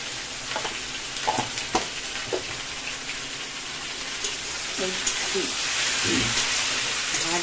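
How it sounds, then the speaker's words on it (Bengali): Ash gourd and shrimp curry sizzling and frying in a pan, a steady hiss with scattered clinks and scrapes of stirring, close and moderately loud, with a voice speaking briefly in the background. "ভাজা ভাজা করে নেব।"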